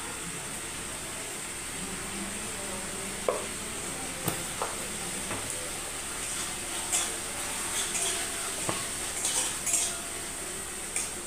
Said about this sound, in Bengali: আদাটা ভেজে নিই, কাঁচা গন্ধে ছাড়বে।